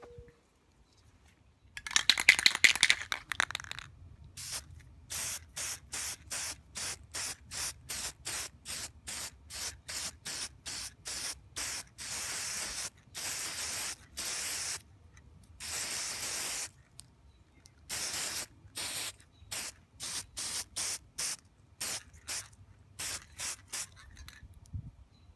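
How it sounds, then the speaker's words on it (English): Aerosol spray can laying down a white base coat before hydro dipping: a long initial hiss followed by many rapid short bursts of spray in a steady stuttering rhythm, close and loud, with no talking. "I'm going to spray paint one white as a base coat."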